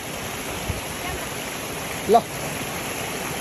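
Waterfall and gurgling mountain stream produce a constant broadband rush of flowing water, steady and fairly loud, with a brief spoken word and a small knock over it.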